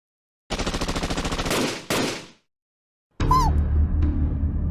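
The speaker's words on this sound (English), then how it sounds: "those were gunshots" Two rapid bursts of automatic gunfire ring out close and loud, then after a short silence a third rattling burst follows with a high whine; anime game cutscene.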